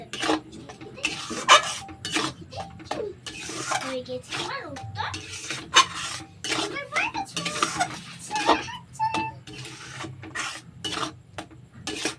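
A spatula scrapes and stirs a thickening kalakand milk mixture in a wok over low heat, producing repeated close rasping strokes and metal clinks, with someone talking over it.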